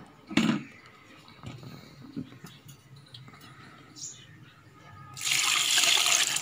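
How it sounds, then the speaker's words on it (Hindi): Water runs into a cooking pot holding pumpkin, chana dal, whole garlic and salt, a loud continuous pour at the end after some clatter and handling sounds. "तो इसमें पानी डाल के इसको थोड़ी देर पका लें।"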